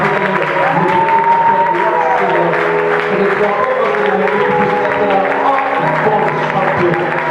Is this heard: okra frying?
no